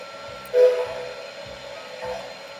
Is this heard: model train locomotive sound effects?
yes